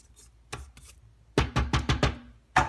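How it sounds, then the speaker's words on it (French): Spatula scraping the sides of a Companion food processor bowl fitted with the mixer blade, a run of short dry scrapes and knocks in close succession, near and clear with no talk. "On va venir bien racler les bords."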